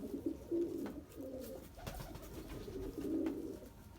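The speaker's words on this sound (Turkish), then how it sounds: "Kuşları aldım buraya dedim ıslanmasınlar." Pigeons moved indoors from a coop flooded after snowfall give soft, repeated throaty coos in short bursts, fairly close but quiet against a low background rumble.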